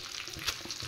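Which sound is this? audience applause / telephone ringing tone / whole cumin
whole cumin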